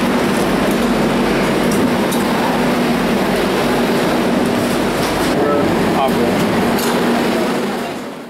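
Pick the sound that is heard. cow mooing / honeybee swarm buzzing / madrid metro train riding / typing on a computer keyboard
madrid metro train riding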